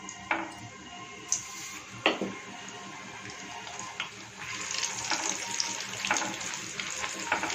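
Puri dough dropped into hot oil in a kadai gives a steady broadband hiss of frying, with scattered clinks and splashy bursts throughout. No voices.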